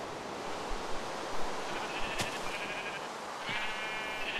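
Sheep bleating in a blocky sandbox video game, a couple of short bleats over a steady rain-like background hiss.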